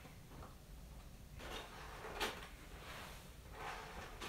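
A drawer of Hot Wheels toy cars, including Corvettes, slides open with a soft rumble and a quick clack, followed by faint rattling and shuffling of small die-cast cars, all at low level with no talking.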